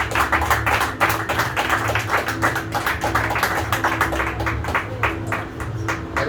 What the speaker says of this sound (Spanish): ¿cuánto le dan un fuerte aplauso? Un aplauso de gratitud